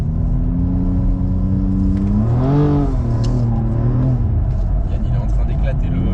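A 750 hp BMW M2 drifting on a track, its engine revving hard and rising in pitch, then holding a loud wailing note and easing off, with someone talking over it.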